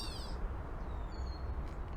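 A gray catbird gives faint, cat-like mewing calls outdoors, a couple of short downward-sliding notes over a steady low background rumble.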